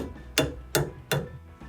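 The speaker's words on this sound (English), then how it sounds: "So we'll grab a hammer." Three sharp metallic hammer blows on a stuck bolt during suspension work on a Porsche 914 land at an even pace, close by, each ringing briefly before the next strike.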